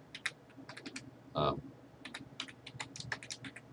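Fingers type on a computer keyboard in short, uneven bursts of close key clicks with brief pauses between, one longer keystroke cluster in the middle, quiet and without speech.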